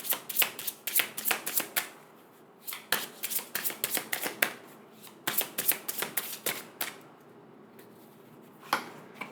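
Watercolor Healing Oracle cards being shuffled up close in rapid riffling bursts, crisp flicking clusters repeating with short pauses between runs.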